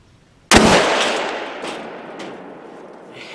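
A single rifle shot fired while deer hunting outdoors: one sharp, loud close crack followed by a long rolling echo that fades over about three seconds.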